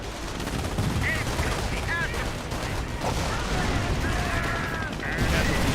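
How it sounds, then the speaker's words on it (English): Combat in the Company of Heroes video game as a Sherman tank takes hits: dense bursts of gunfire and explosions crackle continuously over a loud battle din, with brief chirping tones overhead. "Sherman tank getting hit"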